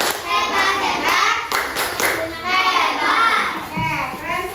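Children in a classroom doing a rhythmic cheer clap, several short bursts of group hand clapping mixed with kids' voices and a teacher's talk, close and lively throughout.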